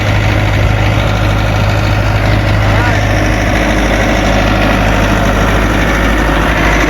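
Heavy machinery engine idling steadily at a driveway job, a constant deep rumble with a strong low hum that holds evenly throughout, close and loud.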